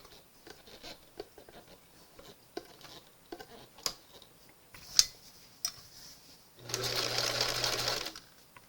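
A vintage JCPenney 0104 heavy-duty sewing machine running a stretch stitch, a few scattered clicks and taps followed by a loud steady whirring hum of the machine sewing, close up.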